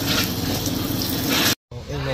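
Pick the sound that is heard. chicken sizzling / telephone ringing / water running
water running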